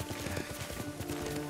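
Rhythmic hoofbeats of a horse trotting in the video game Ghost of Tsushima, a quick steady clip-clop heard up close with a faint background hum.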